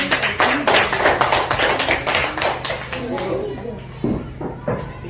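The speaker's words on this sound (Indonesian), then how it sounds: "Ya, tepuk tangan untuk Bapak Matahari." Children clap in unison in an Indonesian classroom, loud rhythmic bursts with kids' voices mixed in; the clapping fades toward the end, then a few final claps follow.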